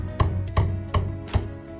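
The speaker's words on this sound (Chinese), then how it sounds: "来烤鸭1只，将其剁成大小不均的小块" A cleaver hacks a roast duck into uneven pieces on a cutting board, four sharp heavy chops about every half second, close and distinct.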